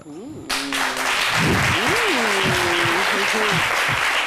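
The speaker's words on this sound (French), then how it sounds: "Je pense que les applaudissements sont un peu trop faibles là, pour ce qu'on vient de voir" A studio audience on a midday television show breaks into loud, continuous applause that holds steady while a person keeps talking over it.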